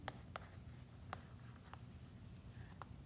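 Handwriting on a board or paper during an arithmetic lesson, quiet scratching pen or chalk strokes in a few short separate bursts over a steady low background hum.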